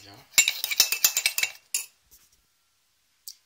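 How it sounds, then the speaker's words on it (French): A spoon scrapes and clinks rapidly against a mug while mug cake batter is mixed, a close burst of metallic taps followed by a couple of isolated clinks. "Donc nous mélangeons le tout"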